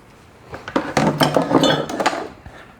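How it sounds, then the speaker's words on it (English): A spoon clinks and scrapes against a bowl while stirring lemon zest, a quick run of bright metallic taps and clatters lasting a couple of seconds, close and clear with no talking. "I'm going to take a spoon and mix that around a little bit."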